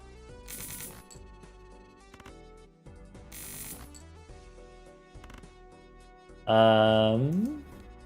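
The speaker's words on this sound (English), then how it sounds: "Sounds like a fly." A buzzing fly, a loud, droning insect whine near the end that rises in pitch, following background music and clicks.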